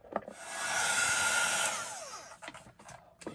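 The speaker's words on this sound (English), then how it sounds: "I'll just heat set this now" A heat tool blows hot air over freshly applied homemade embossing paste, a steady whooshing hiss that rises in over half a second, holds for about a second and fades, followed by a few faint taps.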